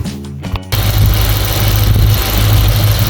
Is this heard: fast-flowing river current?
no